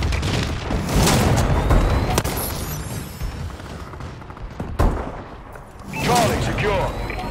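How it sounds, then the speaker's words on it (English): Explosions from a friendly bombing run in the online Domination mode of the video game Call of Duty: Advanced Warfare, a loud rumbling barrage of booms and gunfire with sharp blasts near the two- and five-second marks. "Friendly bombing run clearing the way."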